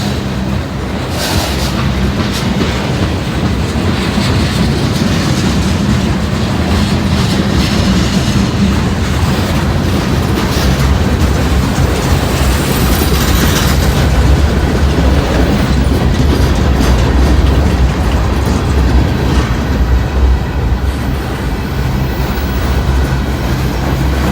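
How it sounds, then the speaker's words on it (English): A long freight train passes slowly on nearby tracks, a loud continuous rumble with steady clickety-clack of wheels over rail joints and occasional screeching, alone without voices. "this is a long train right here. It's going real slow, but this is still a long train."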